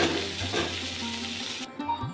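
Steady hiss and crackle of shrimp frying in hot oil, a continuous sizzle that cuts off abruptly near the end, followed by faint clinks.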